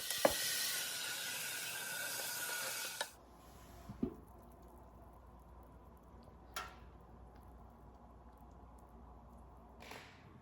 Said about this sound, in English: So I'm going to go ahead and add my water now.